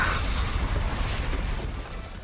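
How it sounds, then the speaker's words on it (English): A flashbang and shattering explosion in the Blue Archive game hit as a dense, loud rumbling blast with crackling debris that rolls on and slowly fades, with no talk over it. "Get a flashbang into like shattering explosion"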